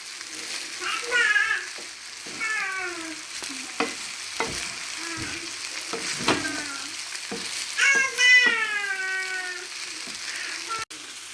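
Nigerian fried rice sizzles in a pan as it is turned and stirred, with soft scraping strokes over the frying and a few brief high voice-like sounds nearby.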